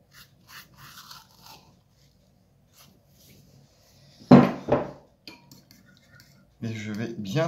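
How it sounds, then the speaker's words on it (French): Cutlery or a spoon scrapes and clinks against a pot as breadcrumbs are stirred into wine for a beef cyve stew, with short scraping bursts that are loudest midway and toward the end, and faint talk underneath. "Et je vais bien délayer cette chapelure dans mon vin"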